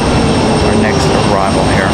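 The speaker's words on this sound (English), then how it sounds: "United 1322 coming in from Washington, D.C. via Dulles. It's going to be an A319-100," A United Airbus A319-100 arriving at Raleigh-Durham from Washington Dulles, its engines a loud, steady broadband roar that fills the whole stretch, close by.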